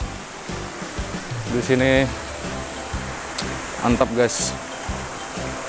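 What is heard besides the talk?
waterfall at Jembong waterfall, Ambengan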